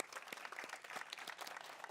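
A brief, faint patter of audience clapping at an outdoor Memorial Day ceremony, steady and distant, lasting under two seconds.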